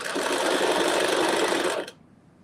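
A sewing machine stitches fabric in a steady, loud, continuous whir for nearly two seconds, then stops abruptly, leaving near silence.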